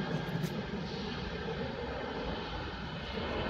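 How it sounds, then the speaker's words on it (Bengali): A fixed-wing airliner roars down the runway at night at Shahjalal International Airport. The engine noise is a steady, moderately loud broadband rumble that holds for a few seconds with no voices. "এই রানওয়ে ছুঁয়ে গেল আমাদের বিমানকে।"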